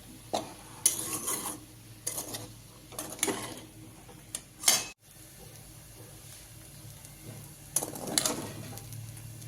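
Sabudana khichdi is stirred in a pan, and a spoon scrapes and taps against the metal in uneven bursts. The strokes are close and fairly quiet, separated by pauses, with a brief cutoff midway and no talking.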